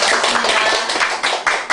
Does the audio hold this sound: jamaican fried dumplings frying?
no